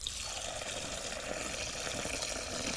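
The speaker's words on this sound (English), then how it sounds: "So we'll just put a little bit of water into it." Water trickles and pours steadily into seed-starting soil mix in a tray. The flow is close and continuous with a gentle splashing texture and ends in a small knock.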